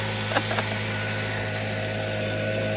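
Leaf blower running steadily nearby, a loud continuous engine drone with a constant high whine and a few brief knocks early on.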